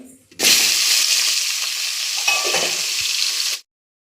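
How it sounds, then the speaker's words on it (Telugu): Ivy gourd (tindora) pieces hit hot oil in a kadai with a sudden loud whoosh of sizzling that holds steady for about three seconds, then stops abruptly. "ఇంకా దొండకాయ ఫ్రై వేస్తాను దొండకాయ ముక్కలు"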